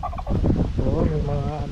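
Domestic chickens on Arangasa Island in Cagwait give repeated loud, close, harmonic clucking and gobble-like calls that run continuously with no talk.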